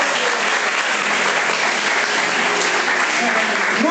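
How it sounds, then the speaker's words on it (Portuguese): Congregation at a church service applauding in a steady, dense wash of clapping that holds evenly at full volume from start to finish. "Alguém pode aplaudir Jesus por isso?"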